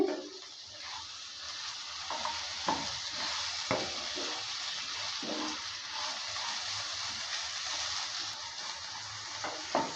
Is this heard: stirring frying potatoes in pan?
yes